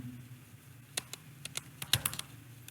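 Light keystrokes tap on a computer keyboard in a short, irregular burst of about a dozen clicks, faint and close, with a brief quiet pause before the typing begins.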